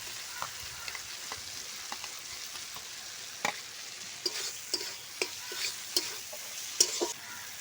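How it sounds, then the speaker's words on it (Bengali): Potatoes go into hot oil with fried spices for a silver carp fish curry and sizzle softly, with repeated scraping stirs of a spatula in the pan, close and fairly quiet, no voices. "এখন আলুটা দিয়ে দিচ্ছি"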